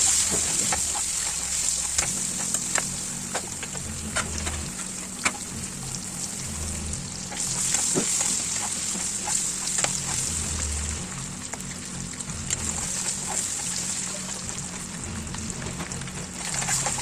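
Eggs fry in a pan with salt, turmeric and chili powder, a steady close sizzle running throughout while a spoon stirs and scrapes with scattered light clicks, no talking.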